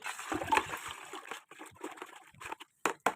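Water splashes and trickles as it is poured and stirred with rooting hormone, with a busy, sloshing texture that breaks into a few short, sharp splashes at the end.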